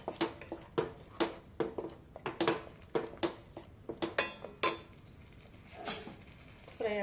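A spoon scrapes and clinks repeatedly against a pan while masala for egg curry fries, a quick, rhythmic run of metallic strokes close by with faint frying underneath.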